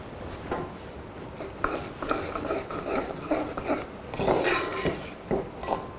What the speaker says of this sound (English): I'm going to stir again.